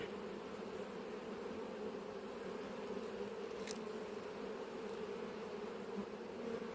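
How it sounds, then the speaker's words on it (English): Honeybees massed in a crowded hive in an apiary, a dense continuous buzzing drone close by with a faint passing click, no speech. "This one's chock-a-block as well"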